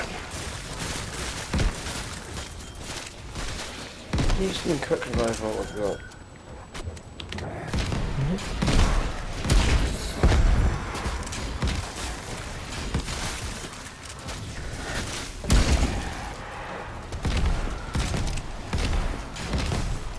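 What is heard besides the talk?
explosions in a video game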